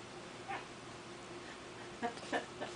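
A pet kitty makes a few faint, short meows in a quiet room, with soft sounds around one moment early on and two more close together near the end.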